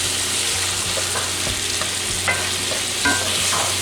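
Ground beef and rice frying in a skillet for a hearty home dinner, with a steady sizzle throughout and occasional scrapes and clinks of a spoon stirring the pan.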